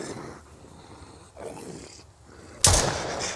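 Two loud gunshots in the survival video game Mist Survival, a muffled first report followed by a sharp, close, booming shot near the end, with faint ambient game noise between.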